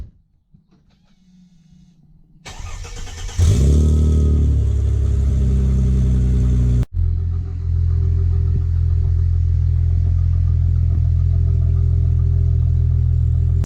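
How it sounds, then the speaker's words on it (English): A 2005 Chrysler Crossfire SRT6 track car cold-starts close by. A short starter crank, then a loud flare of revs that settles into a steady, heavy idle, with one brief dip partway through. "I'll start this off with a nice little cold start."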